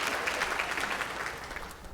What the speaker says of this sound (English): I like how y'all clap like it was hard for me to graduate